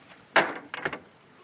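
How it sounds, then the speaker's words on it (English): A door being shut in a 1940s period household setting, a quick heavy thud followed by a softer second knock and rattle as it settles, fairly close and alone. "And Mullen, close the door, will you?"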